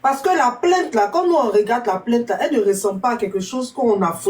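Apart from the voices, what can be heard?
No everyday noise stands out behind the speech.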